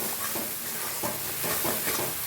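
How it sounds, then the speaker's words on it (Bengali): Spice paste with salt and turmeric being sautéed in oil for a winter hilsa fish curry, with a steady close sizzle and soft rhythmic stirring scrapes, no talk. "এবার হালকা করে মশলাটা আমি কষিয়ে নেব"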